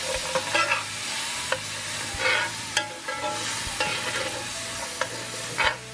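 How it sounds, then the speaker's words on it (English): Onions cooking in apple cider vinegar in a hot pan for a bourbon bacon jam burger, steady sizzling with repeated scraping stirs of a utensil, close and fairly loud with no talk. "Continue cooking the onions for a bit in that apple cider vinegar."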